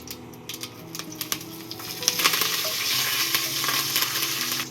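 Chilies and curry leaves hit hot oil and a loud crackling sizzle builds up and continues steadily, close by, with a few soft clinks at the start.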